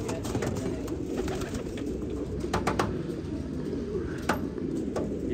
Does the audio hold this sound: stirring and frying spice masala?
no